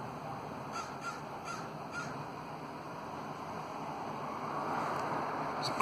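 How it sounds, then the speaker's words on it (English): An outdoor crow caws several times in a short series early on, moderately distant, over a steady wash of wind and background noise. "There's a crow out there."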